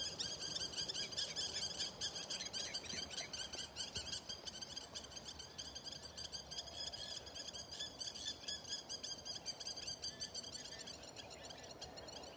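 Nervous birds squeaking repeatedly in a steady chorus of high, thin calls, continuous throughout with no talk.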